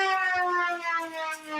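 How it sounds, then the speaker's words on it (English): A wailing siren sound effect plays as a wheel is spun during a poker stream. The rich harmonic tone is held steady and loud, dipping slightly in pitch, with no talk over it. "Here she goes, fully siren."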